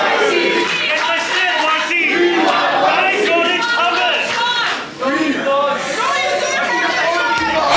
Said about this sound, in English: You hear the crowd